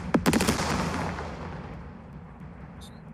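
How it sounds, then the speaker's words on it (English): High-explosive rounds fire at a building in a Second World War strategy game: a sharp burst of close gunfire-like blasts fades into a long, decaying rumble. "We're going to fire HE on that building."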